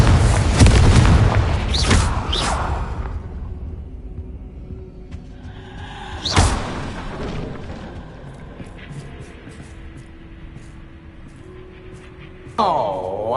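Confringo blasting spell explosions in the Hogwarts Legacy video game: a loud booming blast at the start, another sharp burst midway, and a rising magical whoosh near the end over a low rumbling game ambience.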